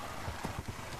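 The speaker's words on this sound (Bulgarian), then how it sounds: "Коне!" Horses in the Minecraft video game clip-clop with several quick hoof knocks in an uneven rhythm, close and clear over a steady game background.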